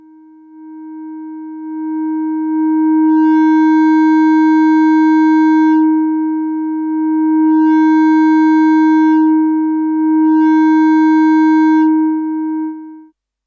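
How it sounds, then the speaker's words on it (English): A steady, pure sine wave oscillator tone through a VCA on a Bastl Quattro Figaro module holds at one pitch, swelling in and out three times as brighter overtones open up, loud and continuous. "Here's a sine wave oscillator through the first VCA."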